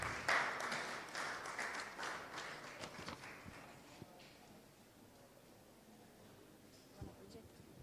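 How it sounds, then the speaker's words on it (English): Audience at a health summit awards event applauding as a guest joins the stage, fairly faint clapping that is strongest at the start and fades out, with speech over it. "A round of applause as he joins us on the stage"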